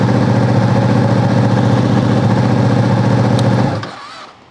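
A Ducati 959 motorcycle from 2017 with about 16,000 to 17,000 miles, fitted with an aftermarket exhaust, runs loud and close with a steady, rumbling idle before the engine cuts off and the sound drops away near the end.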